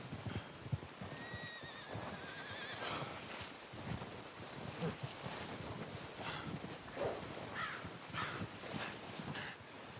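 A horse whinnies a couple of times over steady clip-clopping hooves in the video game Red Dead Redemption 2, with ambient outdoor noise and faint bird calls in the background.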